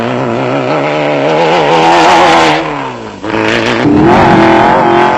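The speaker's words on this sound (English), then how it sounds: "the Čepeks had settled down to a rhythm in the V-Motors Raceco" V-Motors Raceco off-road race car, special vehicle class, 1995 Settlers Off Road Race in South Africa: a loud, close engine revving hard, pitch rising and falling through gear changes, briefly dipping, then surging again without voices.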